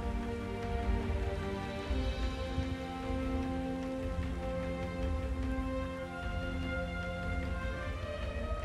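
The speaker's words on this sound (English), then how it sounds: "it's raining on Char" Rain falling during a cinematic cutscene in StarCraft II, set on the planet Char, a dense, even patter with a low rumble underneath and a faint tonal music bed, continuous and without speech.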